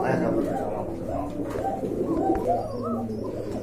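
Pigeons coo in a steady low murmur, partly masked by someone talking over them throughout.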